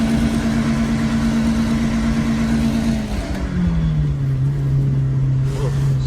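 Car engine running with Chick-fil-A sauce used as engine oil, a steady close idle with a low hum that drops slightly in pitch partway through, continuous and fairly loud throughout.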